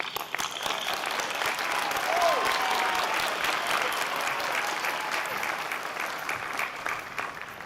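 Applause for veterans rings out at Manchester Community College's commencement ceremony. A large crowd claps in a continuous, even wash that swells slightly midway, with faint voices mixed in under the clapping.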